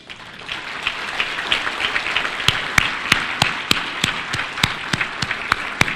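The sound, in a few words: audience applause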